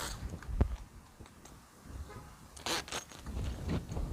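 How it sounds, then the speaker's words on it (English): Zipper on the rear curtain of a Hummer H1 soft top, a few brief rasping zip pulls in quick succession, close and moderately loud, with scraping fabric handling between them. "The whole rear curtain zips out."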